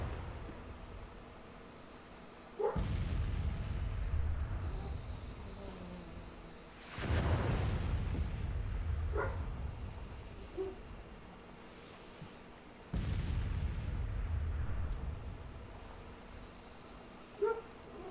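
Artillery in the Civil War strategy game Grand Tactician fires three heavy, booming blasts several seconds apart, each followed by a low rumbling tail, with faint distant pops between them.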